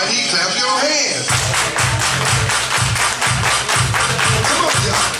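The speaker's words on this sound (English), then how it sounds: "Everybody clap your hands." Wedding guests clap hands in a regular, even rhythm over loud party music, the claps starting after a short musical lead-in and continuing steadily to the end.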